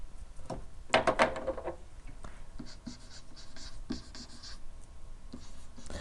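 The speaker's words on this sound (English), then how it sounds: "I'll write that in black." A black marker writing on a board during a math lesson on speed word problems: a quick burst of squeaky strokes near the start, then sparse faint taps and scratches in a quiet room.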